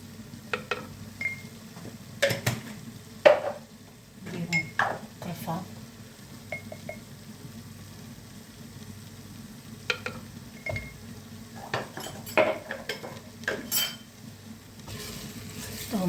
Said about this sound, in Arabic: ونخلوها تزيد تقلى